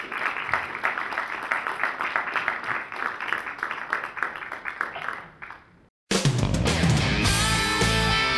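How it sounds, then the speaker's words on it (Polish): Audience applause for the performing artists at a sports award gala, steady dense clapping that fades out before an abrupt cut to louder music. "Brawa ogromne dla naszych artystów."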